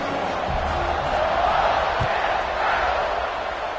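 A stadium crowd roars steadily in an NCAA Football 26 game, a dense, continuous wash of distant cheering with a couple of dull thumps.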